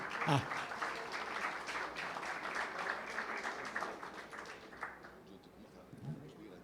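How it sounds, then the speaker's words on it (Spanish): An audience gives speaker Luis Pérez a round of applause after his talk on Venezuela's meat market. The clapping is faint and distant, with a voice talking over it, and it thins out before fading. "vamos a darle un fuerte aplauso a mi amigo Luis Pérez"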